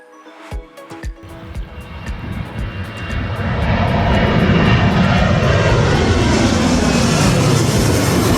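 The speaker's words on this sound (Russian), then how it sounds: "Если вы хотите наблюдать за самолетами" An airplane flies low over the slopes near Corfu airport: its engine roar starts faint behind a few sharp clicks, swells within a few seconds into a loud, close, sustained rushing drone, and holds steady to the end.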